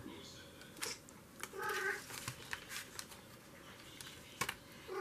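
A cat cries faintly from the corner of a room while playing, a few soft, drawn-out mewing calls amid quiet rustling and handling noises.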